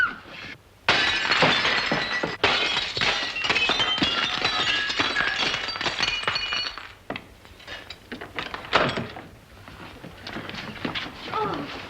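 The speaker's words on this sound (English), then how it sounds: "May I suggest, sir, that you break the glass?" Glass in a door is smashed, loud crashing and shattering followed by tinkling shards falling and scattered clinks and thuds through several seconds, in a 1941 film scene.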